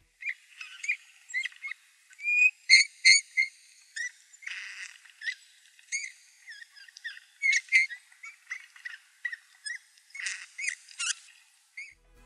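Eurasian bullfinches call from treetops. Short, soft, whistled notes repeat in irregular bursts, fairly close and clear against near silence, with no voices.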